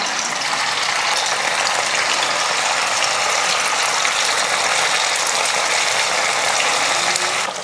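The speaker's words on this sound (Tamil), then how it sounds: "எண்ணெய் நல்லா காஞ்சிருச்சு மீன் பொறிச்சிக்கலாம்" Fish fries in hot oil, a dense, loud, continuous sizzling hiss that holds steady from start to finish with no talking.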